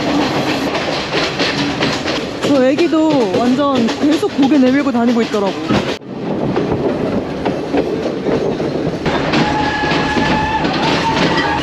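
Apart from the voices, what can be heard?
passenger train running on rails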